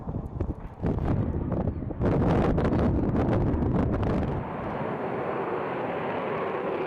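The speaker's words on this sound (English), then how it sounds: "The F-22 Raptor formation fly with F-16's over CENTCOM" F-22 Raptor and F-16 fighter jets flying in formation, a loud continuous roaring rush of engine and air with buffeting wind noise, steady throughout and easing slightly toward the end.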